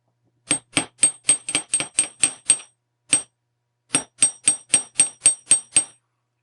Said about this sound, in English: control each hit of the hammer in such a way that I'm smoothing out the metal.